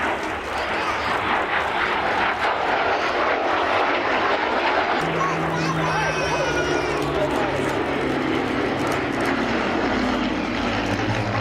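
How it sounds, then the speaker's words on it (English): A MiG-15 jet fighter flies past at an airshow in East Fortune, Scotland, a loud, continuous engine roar that rises and shifts in pitch midway, with crowd noise underneath. "it's currently the only MiG-15 airworthy in Western Europe"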